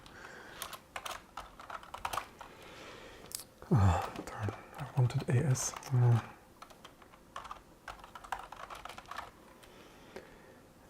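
Typing on a Mac keyboard: rapid irregular key clicks run through most of the stretch, with a voice speaking briefly near the middle over the keys.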